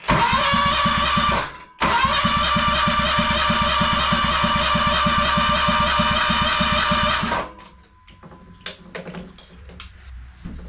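A small engine on full choke fires up after a shot of carb spray and runs loud and steady with a rapid even beat, cutting out briefly near the start, then dies away into quieter handling noises.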